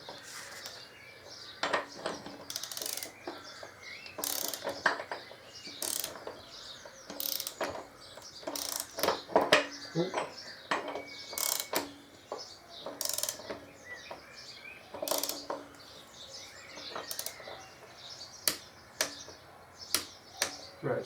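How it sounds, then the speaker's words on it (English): A socket wrench ratchets while the swingarm bolt on a 2005 Electraglide motorcycle is tightened to 20 foot-pounds, producing repeated close clicking bursts with metallic tool handling between them. "I'm trying to nip this up to 20 foot-pound, so I'll get the socket on that side to hold it."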